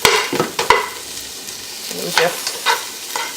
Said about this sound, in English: cooking the onions till they're opaque